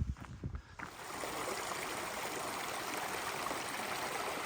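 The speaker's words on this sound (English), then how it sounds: "sound of a cool, cold creek. This is Kilby Creek." Kilby Creek on the Appalachian Trail in North Carolina flows with a steady, broad rushing and trickling wash after a few brief knocks at the start, close and continuous with no talking.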